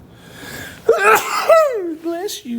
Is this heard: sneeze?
yes